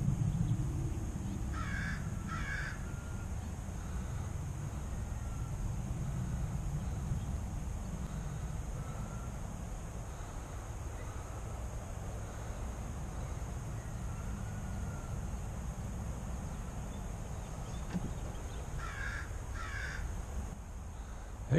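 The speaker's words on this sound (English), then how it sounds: "There's a crow sitting right up there in that elm tree, calling all his buddies" Faint, distant crows cawing from an elm tree outdoors, a couple of short bursts of calls early and again near the end over a steady low rumble of background noise.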